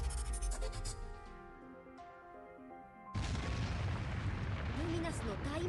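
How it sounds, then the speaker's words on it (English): A massive explosion of magical energy in the Slime Isekai Memories game: tonal music plays, then a sudden loud blast turns into a sustained roaring rumble that lasts to the end. "Luminous let loose a massive explosion of magical energy."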